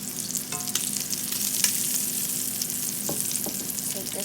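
Cajun shrimp sizzle and fry steadily in a pan, a continuous crackling hiss with occasional louder pops and the scrape of a utensil, with no talk over it.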